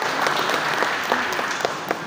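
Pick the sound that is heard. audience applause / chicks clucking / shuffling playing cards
audience applause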